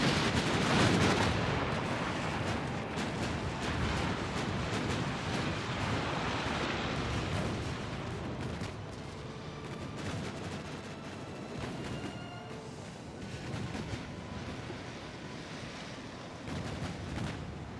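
Naval guns fire in a Dreadnoughts-era sea battle in Ultimate Admiral: Dreadnoughts, dense overlapping cannon reports and distant booms over a rushing ocean backdrop, loud at first and easing slightly, with no voices.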